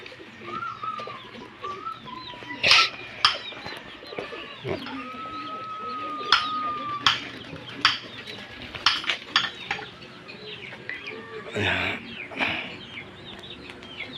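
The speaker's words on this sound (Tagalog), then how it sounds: "Yan, mga manukan. Sama na rin mga ibon, karapati." Pigeons coo and chickens call intermittently around a yard, with sharp clattering knocks now and then and no clear speech.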